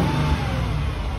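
A warmed-up 1999 Mercedes-Benz C43 AMG engine revs with a loud, steady, throaty roar held close and unbroken for a brief moment.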